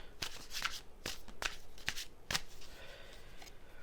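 Tarot cards are shuffled and pulled by hand, giving a run of quick, close riffling flicks and soft slaps at an uneven pace against a quiet room.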